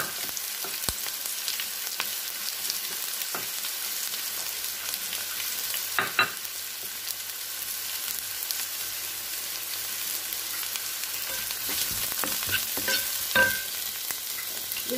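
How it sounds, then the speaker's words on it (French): Onions and garlic frying in a pan for a chicken escalope dish in mustard sauce, a constant sizzle broken by occasional scraping stirs and clinks, with no talk. "je mélange mes oignons je rajoute l'ail"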